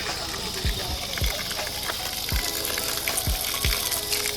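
Cold mountain spring water pours out in a continuous splashing stream, close and fairly loud, with brief low knocks underneath.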